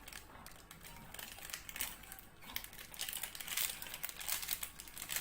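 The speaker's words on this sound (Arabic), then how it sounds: "كيس لبن بودرة. هنفتحه" Plastic bag of powdered milk being opened in a home kitchen while making chilled pumpkin cups with muhallabia and oats: a steady run of close crinkling and rustling, with no talk.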